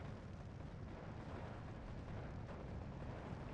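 Shell impact on a Pak 40 anti-tank gun in the Steel Division 2 war game: a dense, continuous rumbling roar of explosions and battle noise, loud and sustained with no distinct separate blasts.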